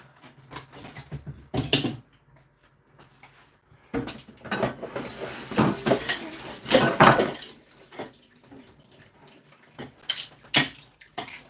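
Lid being placed over a metal pot holding apples and water on a kitchen stove, with several close metallic clanks and rattles in irregular bursts separated by quiet gaps.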